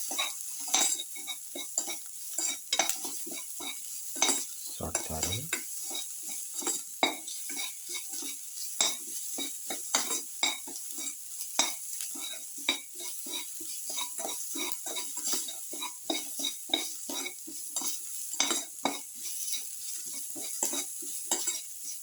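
Ginger and salt are sautéed in a pan with carrots and cumin seeds, giving a steady sizzle under repeated scraping and clinking strokes of a utensil against the pan.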